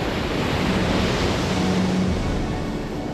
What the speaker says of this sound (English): A constant stiff wind and wild waves attract kite surfers from around the world to